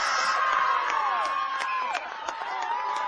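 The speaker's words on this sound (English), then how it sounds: "That's the loudest cheer we've had this afternoon at K Park" A stadium crowd roars and cheers loudly and continuously at K Park as Jane Ross scores a Rangers goal off the bench in a women's SWPL match against Motherwell, with whoops rising above the sustained din.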